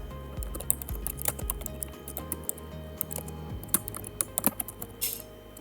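Rapid, irregular key clicks from typing on a computer keyboard, close and fairly crisp, continuing steadily for several seconds over a low background hum, with no talking.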